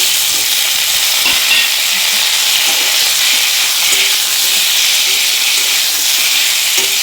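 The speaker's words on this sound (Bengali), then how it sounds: "এখন আমি শশাটা যে সিদ্ধ করে রেখেছিলাম এটা আমি দিয়ে দিচ্ছি" Potatoes fry loudly in a pan while boiled cucumber goes in, with a dense continuous sizzle and hiss and a few faint clinks beneath it.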